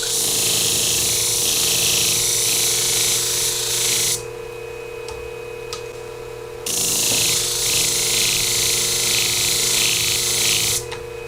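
Shear blade being sharpened on a powered sharpening machine, a steady loud mechanical whir with a high grinding hiss that drops out for a couple of seconds mid-clip and then returns, no talking.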